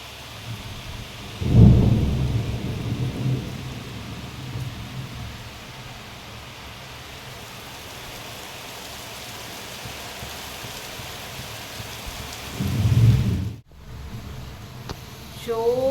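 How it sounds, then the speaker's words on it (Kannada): Heavy rain hisses steadily throughout while two deep thunder rumbles roll in, one early and one near the end, each swelling loudly for a couple of seconds. "ಜೋರು ಮಳೆ, ಸಿಡಿಲು ಕೂಡ ಬರ್ತಾ ಇದೆ, ಜೋರು ಮಳೆ ಬರ್ತಾ ಇದೆ."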